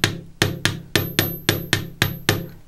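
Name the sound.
chasing hammer flattening jewelry wire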